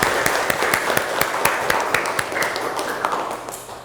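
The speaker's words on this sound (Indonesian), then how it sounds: "tepuk tangan untuk kita semua" Classroom applause at the close of a vocational high school design class project presentation, a scattered patter of clapping with a few sharp claps standing out, moderately loud and steady throughout.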